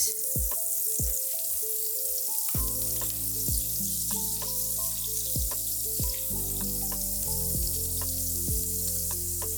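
Mushrooms fry in a pot on medium heat for a creamy bow-tie pasta, giving a steady sizzle with sharp crackles and pops all through, close and fairly loud, with the occasional knock of stirring.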